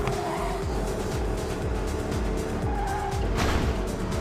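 Porsche car drifting at high speed in a racing video game, a continuous loud engine roar with skidding tire squeal layered over it, no talk.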